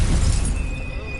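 A Confringo spell blast in Hogwarts Legacy lands as a single short, loud shattering burst that quickly fades into a ringing tail.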